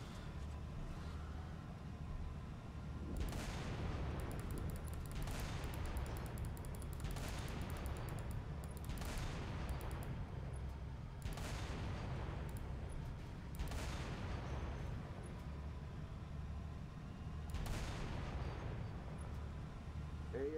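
Enemy guns in Halo Reach fire in repeated heavy bursts at a roughly regular interval, distant booming blasts over a constant low engine-like drone.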